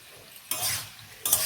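Vegetable curry stirred in a pan, two bursts of scraping and sizzling after a quiet start, close and brisk, with no voices.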